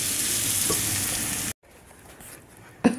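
A pot of green lentils cooks with a loud, dense sizzle and bubbling hiss that cuts off abruptly halfway through. Quiet room tone follows, then a couple of sharp clanks near the end.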